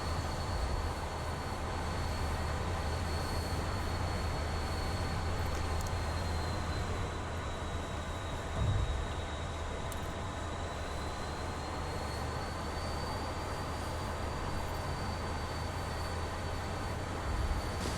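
An F-14 Tomcat taxis toward the runway in a DCS flight simulator game, a steady jet engine whine and low rumble holding level, with a brief thump midway.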